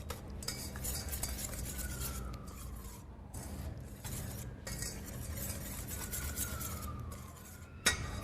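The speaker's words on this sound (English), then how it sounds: "I'm going to whisk this together." A whisk or spoon scrapes and clinks around a bowl as a white pepper spice mixture for crispy fried chicken is stirred together, a close, rhythmic rasping with light metallic taps and no talking.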